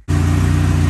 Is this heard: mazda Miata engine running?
yes